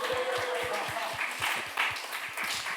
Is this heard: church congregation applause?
yes